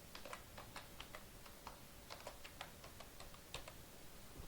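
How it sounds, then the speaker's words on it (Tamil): Someone types a password on a computer keyboard while installing CentOS 8, producing a faint, quick series of light key clicks in an irregular rhythm over a soft background hiss. "நம்ம என்ன பாஸ்வேர்ட் செட் பண்ணோமோ அதை டைப் பண்ணுங்கள்."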